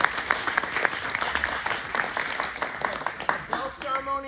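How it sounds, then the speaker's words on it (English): Gym audience applauding staff at a martial arts belt ceremony, steady dense clapping throughout at moderate loudness, with a few louder individual claps standing out and voices briefly audible near the end. "give them a big round of applause"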